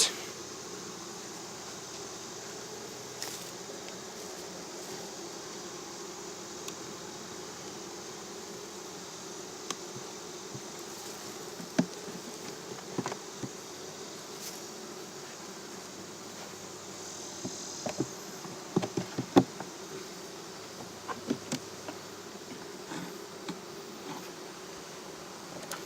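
Honey bees swarm around an open hive during a summer inspection, a steady, dense buzzing drone with occasional closer passes by single bees, and no talking.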